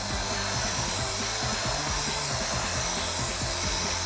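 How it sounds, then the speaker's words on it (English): A drill brush scrubs the fabric of a dirty truck seat, a continuous, steady whirring buzz with rhythmic rubbing, close and loud with no talking. "then I'll come back with a drill brush like this"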